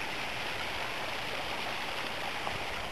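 Water pours down from above through a tree outdoors, a steady, even rush like heavy rain or a small waterfall that holds constant throughout with no voices.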